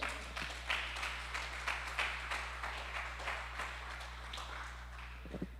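A church congregation applauds during a sermon, a faint, rhythmic patter of many hands clapping over a steady low electrical hum, fading slightly toward the end.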